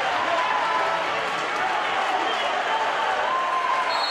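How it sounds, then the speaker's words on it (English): Basketball fans at a college game against Houston Baptist applaud after a dunk, with steady, dense clapping and crowd noise that holds evenly throughout. "Fans of both sides are giving the applause."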